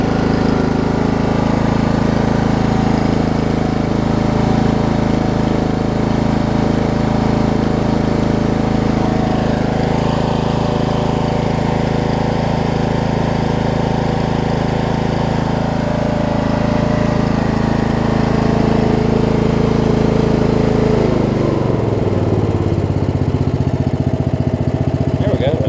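A Murray riding mower engine runs at a steady, loud, close drone, then its pitch drops as it settles to idle. A voice is heard faintly.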